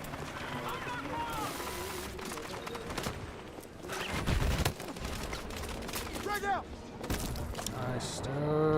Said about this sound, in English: I hate the sound of these guns